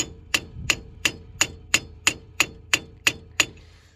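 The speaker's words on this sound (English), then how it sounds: "take a hammer and a chisel, line it up on the bolt if you can get a good shot at it." A hammer drives a chisel against a rusty bolt on a 1989 Chevy Z24 wheel hub, ringing out ten evenly spaced, sharp metallic clangs, loud and close.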